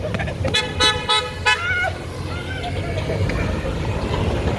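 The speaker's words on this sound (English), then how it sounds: "for a motorcycle, that guy had quite a horn" A motorcycle horn honks several times in quick succession on a busy San Francisco street, loud and nearby over steady traffic rumble and city noise, with a faint trailing tone afterward.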